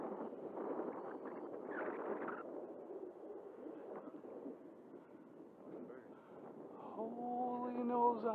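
Breeze buffets the microphone beside a lake where a Flyzone Beaver model floatplane is flown, a steady low rumbling wind noise with faint voices and a rising engine-like whine near the end.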